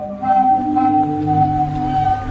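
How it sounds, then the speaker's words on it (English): Sea organ on the Zadar waterfront in Croatia, where waves push air through pipes under marble steps, producing sustained, layered organ-like tones that swell gently and overlap, steady and fairly loud with no voices. "A strange thing called a sea organ that looks and sounds like this."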